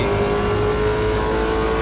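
A V8 car engine at a track day, loud and near, roaring in a sustained rev with a strong steady tone and deep rumble that doesn't let up.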